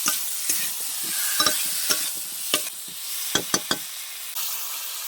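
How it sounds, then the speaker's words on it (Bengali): Tomatoes sauté in a pan with a splash of water, giving a soft, steady sizzle broken by repeated scraping and knocking strokes of a spatula, close up with no voices. "আমি এখানে অল্প করে জল দিয়ে দিচ্ছি যাতে টমেটোগুলো গলে যায়। ভালোভাবে কষিয়ে নিই।"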